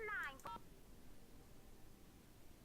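A phone keypad in the Nancy Drew game Secret of the Scarlet Hand gives a couple of short dialing tones at the start, followed by a faint, steady hum.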